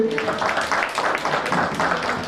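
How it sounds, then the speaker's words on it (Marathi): Audience applause at a Marathi gathering after heartfelt speeches, a dense steady patter of many hands clapping close and loud throughout, with no pauses. "एकदा सगळ्यांच्या मनोगतासाठी जोरदार टाळ्या झाल्या पाहिजे."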